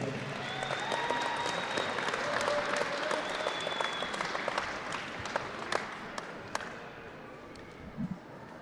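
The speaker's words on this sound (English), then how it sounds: "Please give it up to the special Alex Anderson." Crowd in a high school gym applauds a senior at a wrestling event, with steady clapping and a few scattered louder claps and cheers, heard from a distance and fairly faint.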